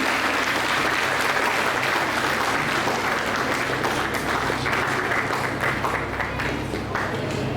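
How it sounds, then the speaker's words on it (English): Crowd applause at a college graduation day in Kohima for the history department receiving a cash award: many people clapping steadily and evenly throughout, a full continuous roar of hands at moderate loudness. "please give a big round of applause for the department"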